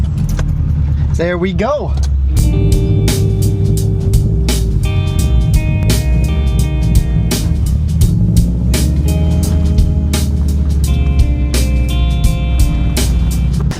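A Honda Civic engine revs hard as the car tries to pull out of rain-soaked grass where it is parked, a loud, steady drone with rising and falling pitch running under a brief spoken remark.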